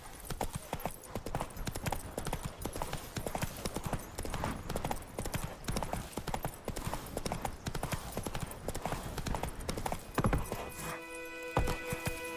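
Roach, a horse in the video game The Witcher 3, gallops with steady, rapid clip-clop hoofbeats that run loud and continuous throughout, joined by a brief burst of other game sounds near the end.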